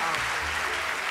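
Studio audience applause on a televised talent show, a dense, steady roar of clapping throughout the short stretch with a low murmur of voices beneath.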